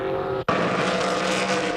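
Stock cars in practice at Kern County Raceway Park, with a loud, continuous engine roar passing close by and a momentary dropout before the noise resumes.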